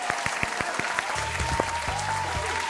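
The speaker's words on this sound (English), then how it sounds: "please give a round of applause to your friend today" A small audience gives a round of applause at the close of an IELTS speaking session, with sparse, distinct claps at first, then softer clapping under a faint steady tone and a low murmur.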